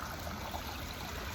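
Overflowing canal water flows in a steady, even rush that runs on without break at a moderate distance.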